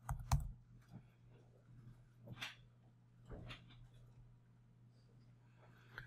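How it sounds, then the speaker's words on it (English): Typing on a computer keyboard heard faintly at close range: a few scattered soft clicks and taps separated by pauses, over a low steady electrical hum. "once you're done typing"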